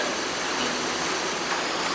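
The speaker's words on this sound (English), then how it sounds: "I can boil water right now" Water heated with Brown's gas boils and bubbles in a steady, dense hiss and rush, continuous and fairly loud with no pauses.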